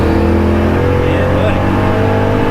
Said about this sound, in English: That's probably the first full throttle.